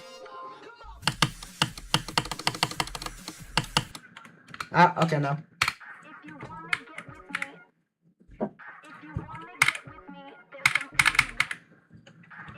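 Rapid bursts of computer keyboard keys being spammed during a rhythm game, dense clattering runs broken by pauses, close and fairly loud, with brief talk in between.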